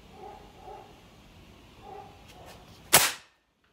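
A PCP air rifle firing at close range into a bar of soap: after a few soft dog-like yelps in the background, a single sharp, loud crack rings out and fades quickly into silence.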